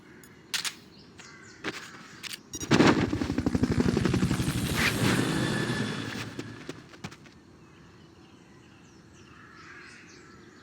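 Helicopter from the video game Metal Gear Solid Peace Walker, a loud rotor chop that rises suddenly, holds for about four seconds, then fades out, amid scattered game effects and ambient sounds.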